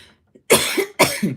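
Two sharp, close coughs in quick succession after a brief quiet moment.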